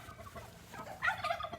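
A turkey on a mountain property gives a quick rattling gobble near the end, preceded by a few softer clucks over quiet outdoor background, close to the listener.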